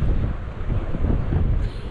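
Steady coastal wind in Australia roars and buffets against the microphone, a constant low rumble with no voices.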